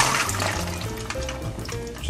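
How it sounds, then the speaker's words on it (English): Almonds being rinsed under running kitchen tap water for homemade almond milk, a steady continuous splashing and gurgling stream close by, with no talking. "we need to rinse the almonds until the water runs clear"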